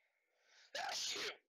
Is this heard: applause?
no